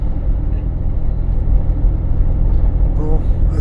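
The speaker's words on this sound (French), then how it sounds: "Qu'est-ce que c'est que cette voiture?" A car rolls past on a rural road in Hungary near the Ukrainian border, its low engine rumble and tyre noise steady and close, with a voice speaking over it.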